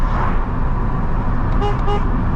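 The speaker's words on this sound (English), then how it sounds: "Oi, that's a beefy honk." Two quick blasts of a Ford Fiesta horn sound near, over a steady rumble of engine and road noise.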